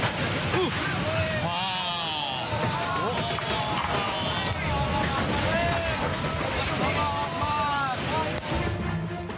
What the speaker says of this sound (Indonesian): derasnya arus sungai membuat pondasi jembatan rubuh.